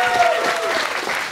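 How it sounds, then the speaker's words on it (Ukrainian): Studio audience applauding at a Ukrainian comedy show, a dense steady patter of clapping filling the short moment with a faint voice over it. "Оплески, клас"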